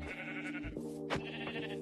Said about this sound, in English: Sheep. Come on, sheep.